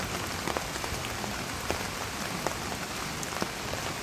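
Light rain patters steadily on a surface, a dense even hiss with occasional distinct drops ticking through.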